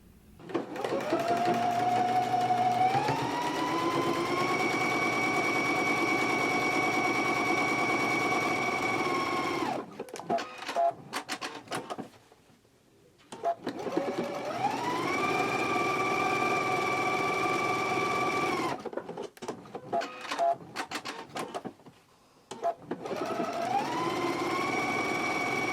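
A sewing machine stitches a skirt pocket along the seam line in long, steady runs of motor whir with brief pauses between passes, loud and close with no talking.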